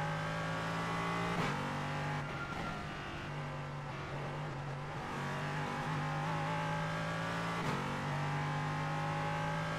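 Race car in the iRacing video game lapping the Nürburgring at night after rain, a steady engine drone with shifting gear tones and brief upshift breaks, fairly quiet throughout.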